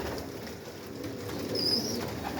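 Domestic pigeons coo softly in a loft, a low steady murmur with a slightly louder swell toward the end, with no voices.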